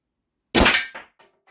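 A single sharp, loud report from the left barrel of an Umarex HDS 68 T4E calibre .68 shotgun firing a steel slug, followed by a couple of quick fading echoes, with no voices.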